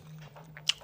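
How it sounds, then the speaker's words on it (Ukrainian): A few close, soft bites and chews on a home meal of fried potatoes with home-grown mushrooms, Korean-style, with one sharper crunchy snap near the end. "Пообідаю такими грибочками своїми смачними, власноруч вирощеними."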